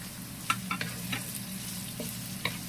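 Onions fried in a pan for chicken pastel and stirred now and then, a steady low sizzle broken by a few sharp utensil scrapes and clinks against the pan.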